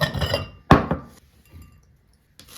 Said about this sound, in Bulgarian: Така, слагаме в купичка